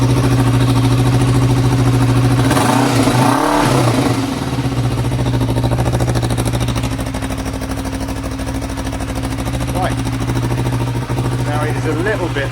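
A Kawasaki ER5 motorcycle engine starts cold without choke, then runs loudly and steadily up close with a throbbing twin-cylinder idle and light throttle blips.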